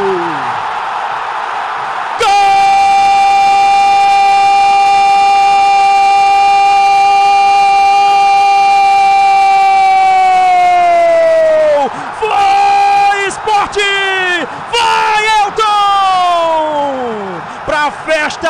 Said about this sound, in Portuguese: Festa da torcida rubro-negra na Ilha do Retiro.